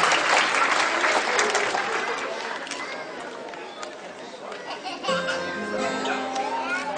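Applause at a family celebration, a crowd clapping loudly at first and tapering off, with children's voices and chatter mixed in, then music starting up near the end.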